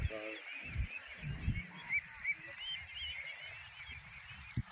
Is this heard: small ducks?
yes